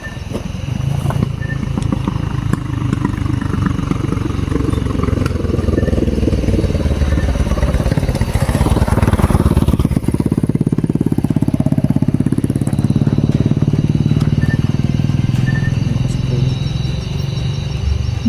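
Motorcycle engine running steadily throughout, a continuous mid-level drone with a brief swell near the middle, heard during an armed mission scene.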